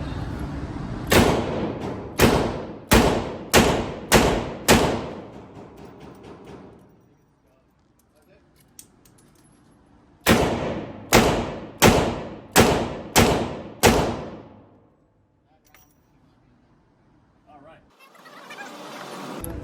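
Smith & Wesson Model 19 revolver fired at 10 yards: two rapid strings of six loud, sharp shots each, separated by a quiet pause during a reload, close by and standing alone.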